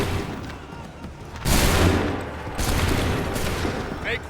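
Musket volleys in Assassin's Creed III battle combat: two heavy ragged fusillades of many muskets firing together, loud and booming, each followed by a long rumbling tail.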